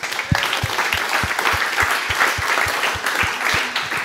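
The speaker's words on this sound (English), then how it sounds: "Round of applause for Gilad, everybody." Conference audience applauding as a speaker takes the stage at GopherCon Europe, a brief burst of clapping with a steady thumping beat of music playing beneath it.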